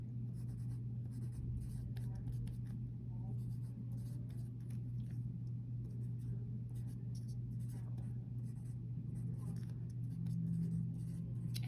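Pen or pencil strokes write out a geometry solution on angle addition and angle bisectors, a close, steady scratching lasting several seconds over a low constant hum, with soft breathy sounds in places.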